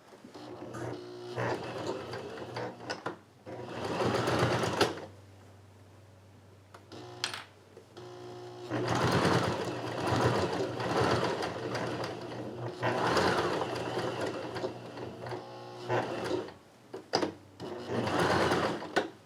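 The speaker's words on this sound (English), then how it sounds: "now that we're at the sewing machine, go ahead, turn it on, get it ready" Embroidery sewing machine stitching an in-the-hoop box bag, running in several long whirring bursts separated by short pauses, close and fairly loud with a steady mechanical hum underneath.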